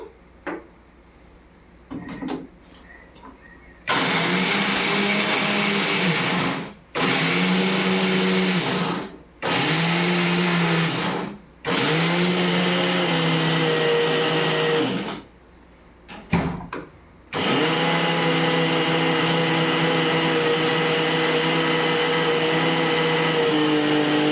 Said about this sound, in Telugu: పచ్చి కొబ్బరి వేసుకుంటున్నాను మిక్సీలో